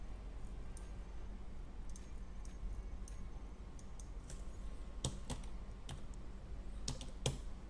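Someone types on a new computer keyboard, with scattered key clicks that turn into sharper, louder taps toward the end, heard close up against a quiet background.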